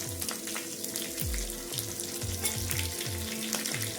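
Mustard seeds and green chilies dropped into hot oil for a khandvi tempering, sizzling and crackling steadily with quick popping bursts throughout.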